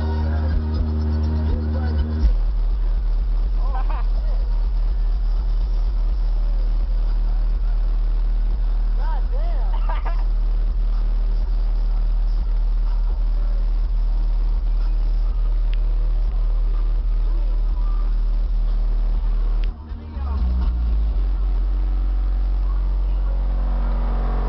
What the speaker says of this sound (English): Listen to your first sub.